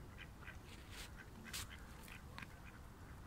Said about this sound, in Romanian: lacul Ceșmegiu e vizitat de un câr de rațe sălbatice